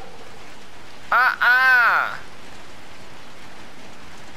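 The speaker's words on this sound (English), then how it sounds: "And it's raining outside." Rain falls steadily throughout a scene in the video game Little Nightmares 2, a soft, constant wash of patter, with a brief spoken interjection rising over it midway.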